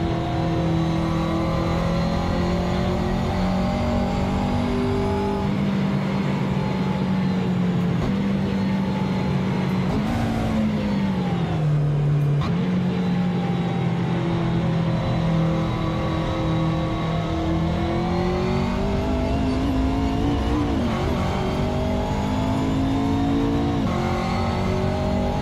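McLaren P1 GTR and McLaren F1 GTR race car engines, alongside BMW cars, in the racing game Assetto Corsa, roar loudly and continuously at high revs, with pitch climbing and dipping through gear changes and a brief drop near the middle.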